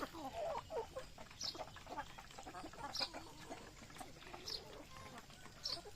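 Free-range chickens cluck softly at close range on a rural farm, with repeated high calls over a low background and voices talking nearby.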